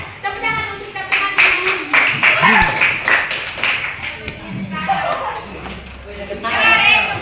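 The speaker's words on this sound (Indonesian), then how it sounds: "Tepuk tangan untuk teman-teman" Children in a classroom clap for their classmates, a quick run of sharp, close hand claps with children's voices chattering and calling out over and between the claps.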